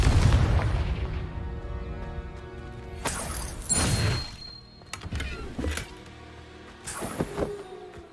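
The Confringo fire spell from Hogwarts Legacy bursts in several loud booming blasts with sharp pops, each dying into a rumbling tail, separated by short quieter gaps.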